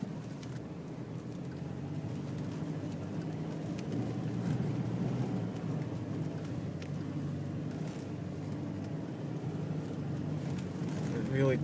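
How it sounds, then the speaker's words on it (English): A vehicle engine labours up a snowy hill in second gear through snow about a foot deep in a remote forest, giving a steady, close, low rumble that holds even throughout with no breaks. "Second gear, trying to keep the traction as best I can without over revving."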